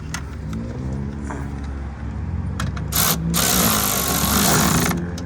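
A 10 mm bolt is tightened on a Chevy Camaro side mirror, a ratchet-like mechanical whirring and clicking close up over a steady background hum.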